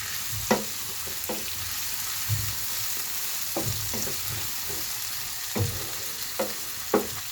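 Tomatoes and onions fry together in a pan with a steady low sizzle, broken by several distinct scraping stirs of a spoon against the metal at irregular intervals, close and moderately quiet with no talking.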